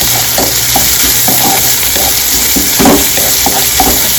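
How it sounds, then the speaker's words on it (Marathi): Onions fry with green chillies and garlic in a pan over a medium gas flame, a loud continuous sizzle punctuated by regular scraping stirs of a spatula against the pan, with no talking. "मीडियम गॅसवर कांदा होऊ द्यायचा आहे."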